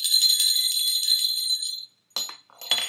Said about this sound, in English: But when his bell jingles